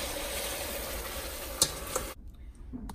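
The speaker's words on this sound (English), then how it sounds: "you might want to start stirring, because this is going to take some fast-paced work" Peanut butter cornflake candy mixture being stirred in a pot, a steady soft scraping and bubbling texture with a couple of sharp clinks, cutting to near quiet near the end.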